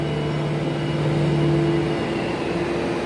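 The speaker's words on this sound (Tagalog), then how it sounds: "Kubota ang makina, hindi na original." Vehicle with a non-original Kubota engine fitted, idling close by with a steady low mechanical drone and hum that holds constant throughout, with no voices.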